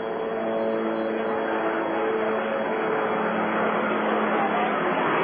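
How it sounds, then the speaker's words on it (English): Low-flying aircraft engine drone over a minor-league ballpark during a Travelers–Wranglers baseball game, a loud steady rumble filling the whole stretch with no breaks. "Getting buzzed by a helicopter now right over top the ballpark."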